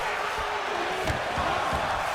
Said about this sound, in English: The crowd is electric here tonight.